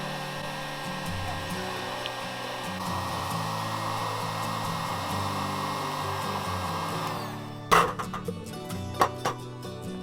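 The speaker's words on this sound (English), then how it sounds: "since heat gun wasn't putting out enough heat" A heat gun blows steadily on plastic, a continuous hair-dryer-like whoosh for several seconds that cuts off abruptly, followed by a few sharp clicks and knocks.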